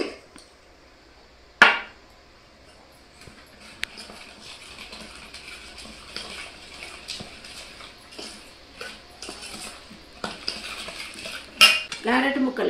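Thin-cut carrot pieces for a carrot pachadi drop into a metal pan and are stirred, giving a loud clank followed by repeated scraping and clattering of utensil on pan, with another sharp knock near the end.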